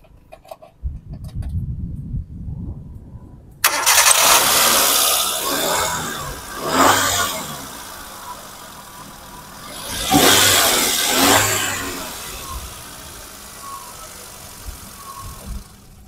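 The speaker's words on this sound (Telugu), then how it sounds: "ఒకసారి స్టార్ట్ చేసి కూడా మీకు ఇంజిన్ కండిషన్ ఎలా ఉందన్నది చూపిస్తానండి" A used Hyundai car engine cranks and starts after a few seconds of quiet, then idles steadily with two loud revving swells, the second longer and stronger, before settling back to idle.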